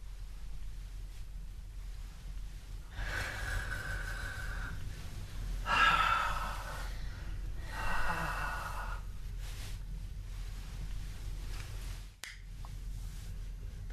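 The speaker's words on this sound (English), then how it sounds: "It starts at the lowest level by just listening to their breathing rhythm." A child with severe learning difficulties breathes audibly close by, with several breathy exhalations and sigh-like puffs in irregular rhythm over a low steady room hum.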